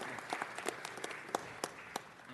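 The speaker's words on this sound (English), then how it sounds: "Let's give her a round of applause" Scattered, fairly faint applause at a city council meeting for a speaker's mother: a small group of sparse, uneven hand claps with a few sharper individual claps and some voices under them.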